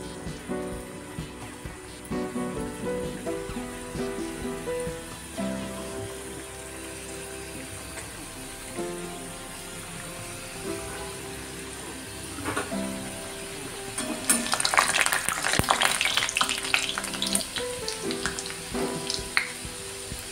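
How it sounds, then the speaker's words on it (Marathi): Sweet modak dumplings deep-fry in a pan of hot oil, giving a soft, steady bubbling fizz that grows into a denser, louder crackling sizzle partway through, with a few clinks close by. "तेल गरम झालेलं आहे. आता याच्यामध्ये मोदक सोडून घेऊया."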